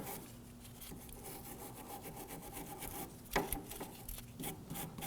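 Scraping, rasping strokes as threads on a 2008-2011 Ford Focus inner tie rod are cleaned. The rubbing runs steadily and close up, with a sharper scrape near the middle.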